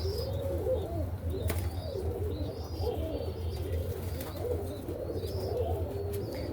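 Egyptian Kashk pigeons coo in repeated low, rolling phrases, close and steady, with a few faint chirps and wing flutters over a constant background hum.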